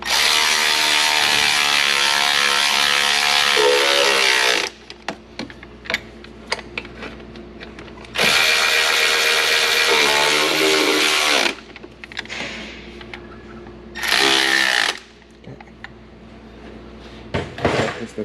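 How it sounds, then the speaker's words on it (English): Ratchet clicking rapidly as it turns two bolts to draw a Hyundai Kona timing cover into place, three loud sustained bursts of ratcheting separated by quieter pauses with small knocks and handling noises. "So I'm just gonna use these two bolts just to push in our cover."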